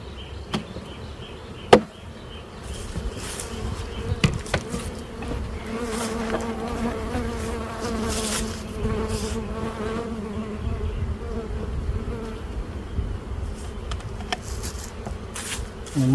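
A honeybee swarm hums around a hive in a continuous, close buzz with individual bees droning past, broken by a few sharp knocks and handling clatters.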